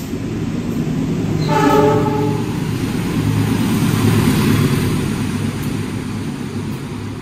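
The Rangga Jati passenger train rolls past close by, loud and rumbling, with a horn blast near the start over steady wheel and carriage noise.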